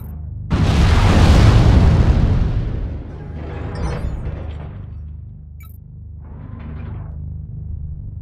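A missile explosion in the Mechwarrior Online video game, a loud sudden boom followed by a long rolling rumble that slowly fades, then two fainter secondary blasts, over steady game hum, no talk.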